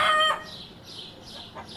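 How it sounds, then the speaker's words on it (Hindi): A rooster crows once, loud and close, a bright drawn-out call that cuts off quickly and leaves faint background hiss. "मुर्गे ने बांग दी।"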